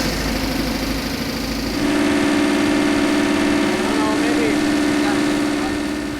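A 1982 Camaro V8 fed by a Holley 670 Street Avenger carburetor settles into a steady, loud idle after firing up, with a strong low hum and engine rumble running throughout.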